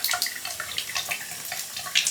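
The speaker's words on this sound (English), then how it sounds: "it is the hot water which is leaking" Hot water running and leaking from a Delta shower faucet, a close, steady trickle with scattered splashy drips and no voices.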